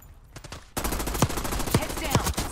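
Gunfire in a military shooter video game, a sniper at work, cracks out as several sharp shots spaced in a loose rhythm over a steady background din of battle.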